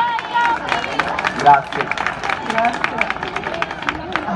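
A crowd at an outdoor performance in Chiesanuova breaks into brisk, sustained applause, and a voice briefly speaks over the clapping.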